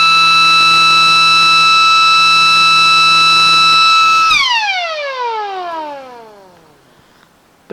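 A mechanical siren being tested sounds a loud, steady multi-tone wail for about four seconds, then winds down with its pitch falling smoothly as it fades toward silence.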